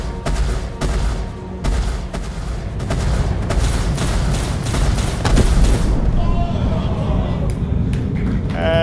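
A spaceship turret fires at pirate ships in the Star Citizen video game, with rapid bursts of booming gunfire and explosions coming close together over several seconds as voices talk over the action.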